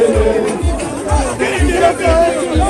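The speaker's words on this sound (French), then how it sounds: "il a attiré avec lui une grande foule" A large crowd fills a Paris street at a music video shoot, a dense chatter of many voices over a steady low, thumping beat pulsing about twice a second.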